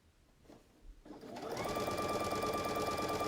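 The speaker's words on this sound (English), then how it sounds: "Do 1/4 inch seam allowance. And sew it on down." A sewing machine stitches quilt fabric pieces for a log cabin quilt block. After a quiet second of handling it starts up and settles into a steady, close, continuous mechanical whir.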